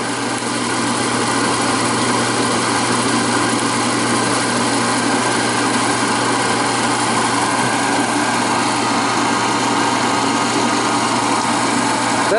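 A Fairbanks Morse light plant generator engine runs steadily with the electrical load taken off, a continuous close mechanical hum and buzz at even loudness with no voices.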